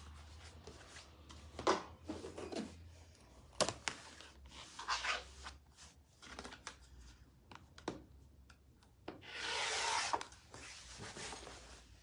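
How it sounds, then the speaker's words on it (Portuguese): Rasping and rubbing strokes of a tool chamfering the edge of a triangular bag piece, heard as close, irregular bursts of scraping with a longer, louder stretch near the end, no talking. "Eu tenho que chanfrar ele aqui,"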